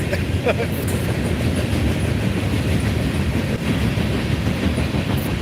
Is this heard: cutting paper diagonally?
no